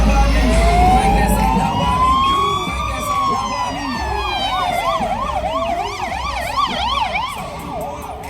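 Police sirens wail along a city street during a car event, a loud near siren rising and falling slowly, then switching to a rapid yelp as another siren joins over traffic rumble.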